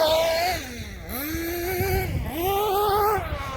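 An RC car's electric motor whines up and down in pitch through a jump, rising, dipping and climbing again over a few seconds, fairly close and alone without talk.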